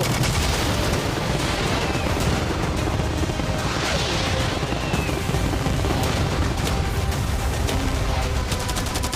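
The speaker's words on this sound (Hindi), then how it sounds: "मैं चाहता हूँ कि तुम कैनन्स, फायरवर्क्स, एरोस, कैटापल्ट्स सब कुछ एक साथ फायर करो।" Cannons, fireworks, arrows and catapults fired all at once in a staged attack defending a yacht: a dense, continuous barrage of overlapping booms, cracks and crashes, loud and sustained throughout.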